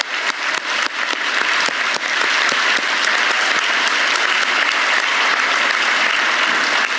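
A graduation ceremony audience breaks into loud applause, with scattered claps at first that quickly swell into dense, sustained clapping filling the hall.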